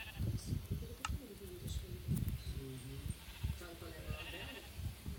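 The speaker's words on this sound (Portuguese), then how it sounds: "Ô, ovelhinhas, eu amo vocês, ovelhas." Sheep bleat repeatedly inside the Minecraft video game, several wavering calls rising above a steady backdrop while someone talks over them most of the time.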